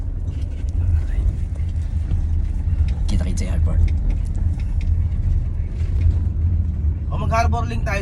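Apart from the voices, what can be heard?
car interior while riding to the airport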